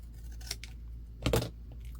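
Scissors snip through cardstock in a single crisp cut, close and fairly loud, preceded by a couple of faint paper rustles in a quiet room.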